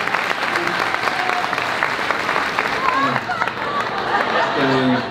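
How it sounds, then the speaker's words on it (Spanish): Loud audience applause and cheering for the mariachi performer Daniel Garza at a live comedy stage show, a dense steady wash of clapping with crowd chatter and a few voices mixed in. "Un aplauso fuerte para Daniel Garza"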